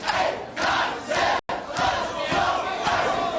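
A wrestling event crowd chants a count in unison, with loud rhythmic bursts of voices rising and falling in a steady beat and one brief cut in the middle.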